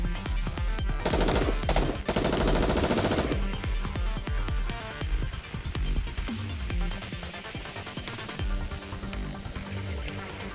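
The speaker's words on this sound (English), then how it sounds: "Unload your guns on them" Loud gunfire rattles through a Nikke: Goddess of Victory battle, with dense rapid bursts at first that thin into scattered sharp shots and clattering impacts. No one speaks.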